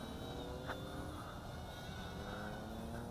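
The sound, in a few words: JXD T503 toy drone taking off at full throttle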